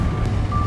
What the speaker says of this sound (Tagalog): Ay, ito na yung bus!